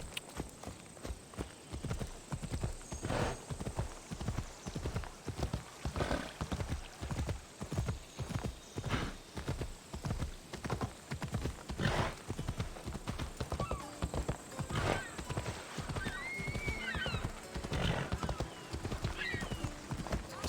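Horse hooves in Assassin's Creed Odyssey, a steady rhythmic run of clip-clop hoofbeats throughout, with occasional whinnies and neighs over faint ambient hum.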